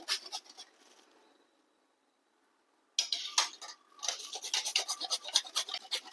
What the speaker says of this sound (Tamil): கேரட் அந்த மாதிரி துருவி எடுத்துக்கோங்க.